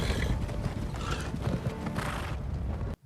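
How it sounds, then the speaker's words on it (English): Horses in a The Lord of the Rings: The Two Towers film scene, with busy hoof clip-clop and neighing over a dense, steady wash of movement and tack noise, loud and close, with no voices. "These are pretty nice horses"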